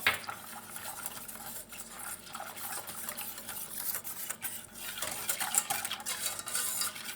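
A spoon stirs cold milk with flour, starch and sugar in a pot for a pudding cake, giving close, continuous scraping and soft clinking against the metal with no talk.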